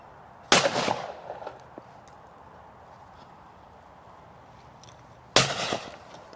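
Two loud shotgun blasts fired at clay targets outdoors, about five seconds apart, each a sharp crack with a short decaying tail, separated by quiet background.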